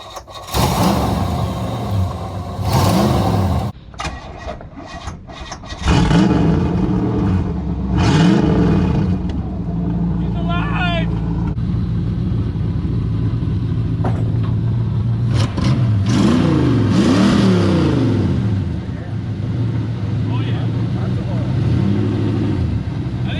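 A Pontiac Trans Am's engine idles and revs in rising and falling surges as the car is backed down off ramps, a steady mechanical drone running throughout.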